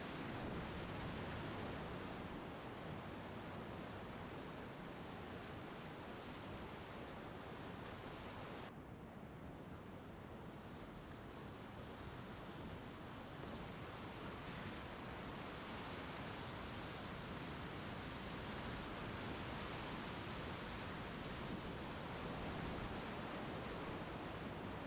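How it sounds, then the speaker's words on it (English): Whitewater rapids on the West Fork of the Hood River give off a steady, unbroken broadband rush of churning water that stays constant throughout, with no voices. "there's like about a half a mile of just kind of back-to-back rapids through here that are really fun"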